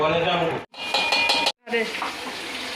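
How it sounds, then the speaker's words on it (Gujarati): Metal utensils clatter and scrape in a pan as vegetables and onion are tempered over a soft frying hiss, close and busy, with two brief silent breaks. "રંજનબેન વઘારે છે જો ભાજી વઘારે છે અને શું નાખ્યું ડુંગળી"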